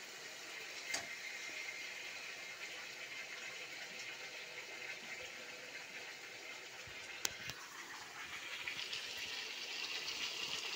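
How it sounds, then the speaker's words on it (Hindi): Water pours steadily into a pan while egg curry is being cooked. The stream is faint and continuous for about ten seconds, with no talking. "अब मैं इसमें पानी ऐड कर रही हूँ"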